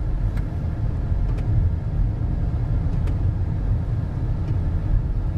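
A car driving through the small town of Ennis, Montana, giving a steady, loud interior rumble of engine and road noise with no break.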